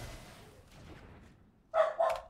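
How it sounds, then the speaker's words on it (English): After a stretch of low background noise, a pet dog indoors lets out two loud, sharp barks in quick succession near the end. "Our dog just barked a lot. And it's still barking a lot."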